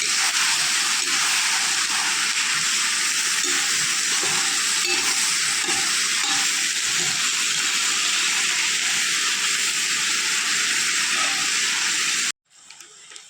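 Garlic cloves for a garlic pickle fry in a pan with a steady, loud hiss and sizzle for about twelve seconds, with faint stirring scrapes underneath, before cutting off abruptly near the end.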